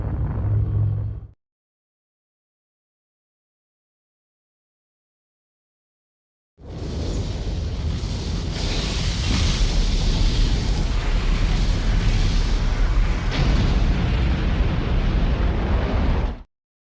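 Explosion in the video game Xenogears: a brief burst, then silence, then a long, loud, rumbling blast that roars steadily for about ten seconds before cutting off abruptly.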